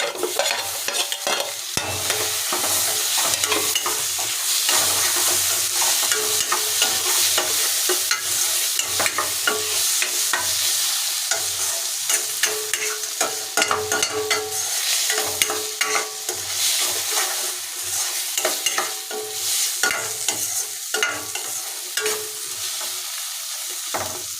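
Stirring and sautéing in a pan while making Tamil egg curry: a steady sizzle of frying with repeated scraping of the spoon, loud and close, continuous throughout with no talking.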